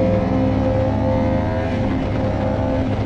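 A Yamaha motorcycle engine runs loud and close, a steady throaty drone with no speech over it.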